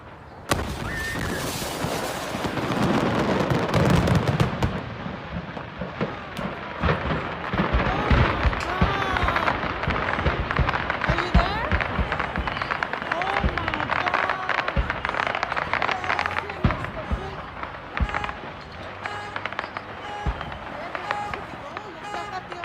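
Stored illegal fireworks exploding at a house in Ontario, a dense, sustained barrage of crackling bursts and booms that goes on without a break, loud and chaotic, with crowd noise in the background.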